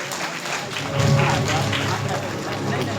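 Audience clapping at a student guidance award ceremony in a hall, a broad continuous patter of many hands mixed with crowd murmur and a voice over the top.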